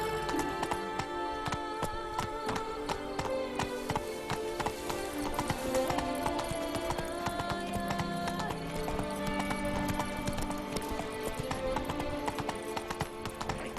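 Horse hooves gallop in a steady clip-clop rhythm while riding in The Witcher 3 video game, loud and continuous over a dense orchestral music bed with an occasional whinny.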